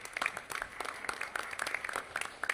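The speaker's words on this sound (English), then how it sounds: "let's still give David a round of applause." A small audience at a school board meeting claps briefly, a thin, scattered patter of hands that sounds faint and sparse.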